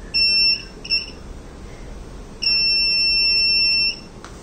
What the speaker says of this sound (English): if any metal detected while we are operating this, as you can hear the buzzer also